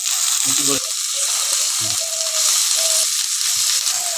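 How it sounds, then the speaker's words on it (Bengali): Chicken pieces sizzling loudly in fried spice paste in a pan, a dense, steady hiss close by with intermittent clatter of stirring and a faint voice underneath. "মশলা কষানো হয়ে গেছে তখন চিকেনটা ছেড়ে দিব দেখো"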